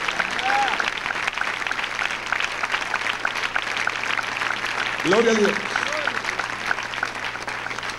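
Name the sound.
church congregation applauding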